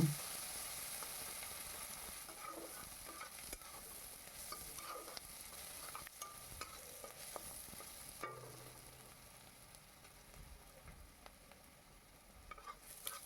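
A faint, steady sizzle of salted onions frying in a pan, with soft clicks and scrapes of stirring throughout.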